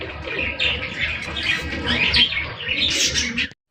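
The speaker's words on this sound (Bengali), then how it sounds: "দেখেন মাশাআল্লাহ জিনিসটা দেখেন একদম টপ কোয়ালিটির মধ্যে একজন লাহোরি কবুতর পাইতেছেন" Lahori pigeons coo and chirp in a dense, continuous chorus close by, with soft overlapping calls and rustling filling the whole stretch without pause.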